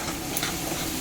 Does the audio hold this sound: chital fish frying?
yes